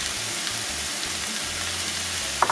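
A vegan ackee dish with tomatoes and mushrooms sautés in a pan, making a soft, constant sizzle at low volume, with a brief clink of a utensil near the end.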